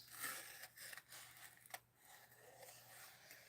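Scissors cutting around a shape, likely paper for a scrapbook layout, giving several soft snips and scraping slides close up, with one sharper snip partway through, quiet and without talk.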